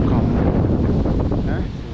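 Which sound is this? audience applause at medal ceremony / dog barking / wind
wind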